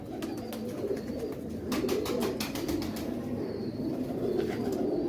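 Pigeons coo in low, soft, repeated murmurs close by, with a few light clicks and rustles over a steady background hum.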